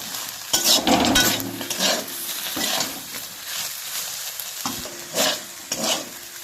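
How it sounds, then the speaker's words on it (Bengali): Okra frying with spices in a pan over low gas, a crackling sizzle broken by repeated scraping and stirring strokes of a spatula, close up with no speech. "আমি আস্তে আস্তে করে ভেন্ডিটা ভাজতে থাকবো"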